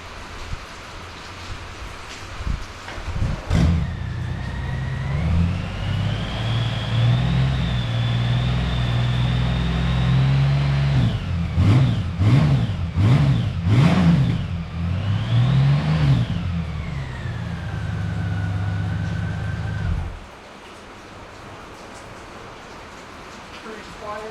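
A stock Honda Goldwing motorcycle idles with a low, steady exhaust rumble, then revs several times in quick rising-and-falling blips before settling back to idle and cutting off, recorded close by outdoors with a faint patter like rain.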